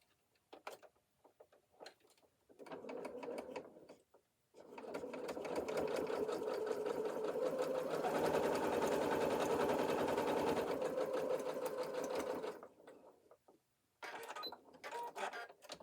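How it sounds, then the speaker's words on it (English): A sewing machine stitches around an apron, running in a short burst and then a long steady whirring, rapid rhythmic hum at close range, with brief pauses and quiet handling noises at either end. "I'm going to come and sew all around, and I'm going to secure all that."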